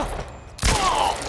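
A sharp, heavy gunshot from The Last of Us Part I cracks out partway through, preceded by a low, murky ambience and followed by a rumbling tail.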